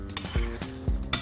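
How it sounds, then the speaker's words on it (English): Pasta being stirred into a vegan feta cheese sauce in a pan, a few soft wet squelching strokes with faint utensil scrapes, close and quiet. "And stir. Stir it all in."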